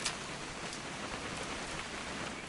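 Rain falls in the video game What Remains of Edith Finch as a steady, even hiss of drops that stays moderately faint and unbroken throughout, with no talking.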